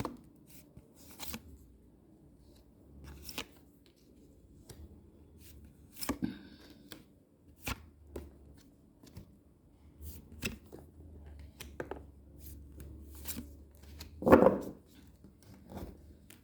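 Tarot cards are shuffled and handled during a horoscope reading, heard as scattered soft riffles and taps with quiet gaps between them and no talking.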